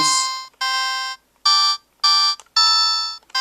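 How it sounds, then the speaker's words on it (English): A series of short, bright electronic chime tones, each gym badge with its own tone in a Pokémon game, sound one after another with brief gaps, clean and synthetic like menu selection sounds. "each of the badges has its own different tone to it"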